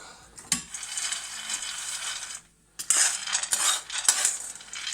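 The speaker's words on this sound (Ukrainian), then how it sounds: "Першим ділом ми смажимо горіхи" Metal clinks and scrapes of peanuts being stirred in a dry pan while roasting, broadband clattering with a brief pause midway, then renewed rattling.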